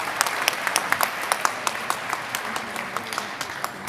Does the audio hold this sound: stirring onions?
no